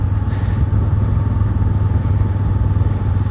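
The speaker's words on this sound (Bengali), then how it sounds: "কোনো রকমভাবে বালি পার হয়ে বিচে বাইক তো নিয়ে এসছি।" A motorbike ridden across a sandy beach, its engine droning loud and close at a steady rumble with rattling clatter and no talking.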